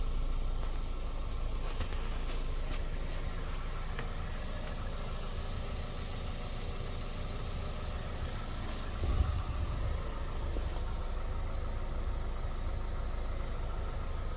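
A 2003 Toyota Corolla Matrix XR AWD wagon idling quietly, a smooth, faint, steady low hum heard from nearby with no talking.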